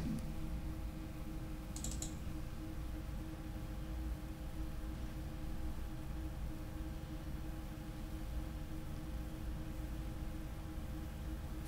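Quiet computer keyboard typing and mouse clicks while setting up Linux Mint in VirtualBox, soft scattered clicks over faint room hiss, with no talking.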